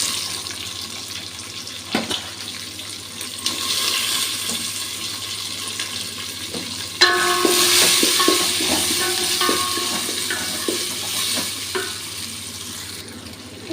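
Onions frying in a home kitchen pan give a steady broadband sizzle throughout, with a brief clatter near the start and a louder, busier stretch of stirring and scraping in the second half, no talk.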